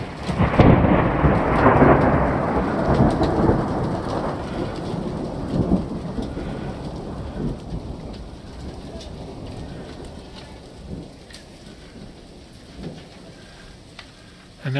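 Thundersnow near a ski area after a lightning strike less than a quarter mile away: a loud, close thunder crash with a long rumble that fades over many seconds, under a steady hiss of falling snow pellets.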